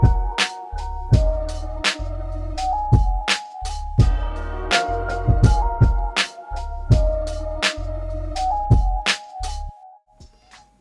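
A programmed drum beat made on Maschine, half quantized, with punchy kicks, snappy snares and hi-hats over a simple bass line, played fairly tight with a steady groove.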